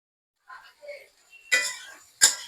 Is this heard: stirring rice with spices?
yes